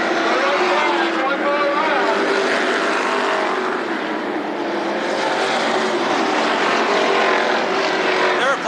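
Late model race cars roar around Berlin Raceway in a loud, steady engine drone with a slight rising and falling pass, close and continuous, with an announcer talking over it.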